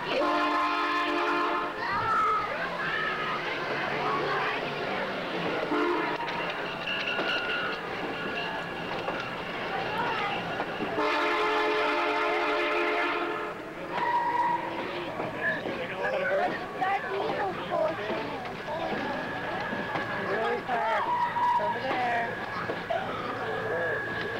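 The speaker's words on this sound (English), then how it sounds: "Oh, the train is going." A train rumbles along steadily with a horn sounding in long tones, while people talk over the noise throughout.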